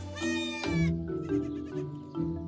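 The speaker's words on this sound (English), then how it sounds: "Nicole and Stefan keep 3 goats at the chateau. One of them is heavily pregnant. Or was, by the sound of things." A heavily pregnant goat kept at a French chateau bleats in two or three loud, wavering calls close by, with fainter bleats and barn noise between them.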